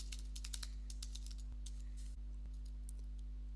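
Keys clatter on a computer keyboard as a name is typed into a page-builder form, a quick run of soft clicks over a steady low electrical hum, close and fairly quiet, with no voices.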